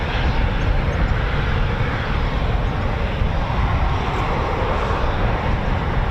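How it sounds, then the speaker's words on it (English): A Royal Air Force Eurofighter Typhoon FGR4 jet display at RAF Coningsby, a loud, steady, broadband roar of jet engines that fills the air without a break. "So you'll notice that the RAF Typhoon display"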